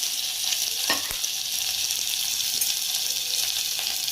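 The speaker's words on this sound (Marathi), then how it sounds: "हे तेल ठेवलंय गरम कराय. त्याच्यामध्ये आपण काय टाकलंय? तेजपत्ता, कांदा" Bay leaves and onion fry in hot oil with a steady close hiss and crackle throughout, plus a brief clink of a utensil near the start.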